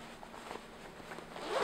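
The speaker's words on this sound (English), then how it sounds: "I put in, I'm so proud of this," A side zipper on a velvet dress is drawn closed in one steady, close, rasping pull that grows slightly louder toward the end, with no talking.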